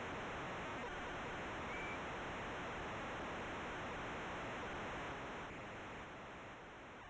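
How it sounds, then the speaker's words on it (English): Steady hissing crowd roar that sounds like broadband static, constant and loud throughout, easing slightly near the end, from the Sega Genesis game NHL Hockey. "Crowd noise sound crazy."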